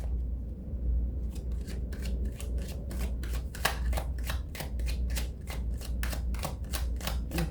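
Playing cards being shuffled, a rapid run of crisp riffling flutters repeating in quick bursts, close and fairly quiet over a low steady hum.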